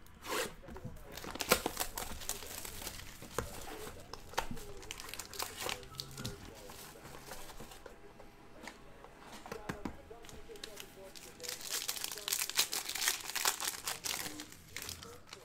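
A pack of Panini Obsidian soccer cards being ripped open, with crinkling and tearing foil in scattered bursts close up over low background noise.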